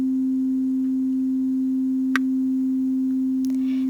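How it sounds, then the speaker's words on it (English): A pure sine wave tone at middle C, about 262 Hz, holds perfectly steady and loud for the whole stretch, with only a couple of faint clicks over it. "We are now playing middle C at approximately 262 Hz with sine waves sent to your speaker."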